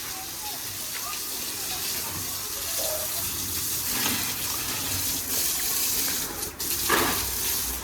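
Water is poured steadily over a new house under construction outdoors, a continuous gushing hiss that runs throughout with a few brief louder splashes near the end.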